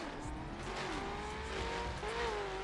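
A newly chosen car in The Crew racing game: a continuous engine drone with rising and falling revs and slight tire noise, moderately loud and steady, with no talk over it.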